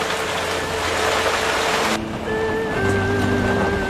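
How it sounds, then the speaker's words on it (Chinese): Steady rain falls in a dense, even hiss, then dulls abruptly partway through as a soft tonal music line comes in over it. "又下雨，这雨不知道要下到什么时候"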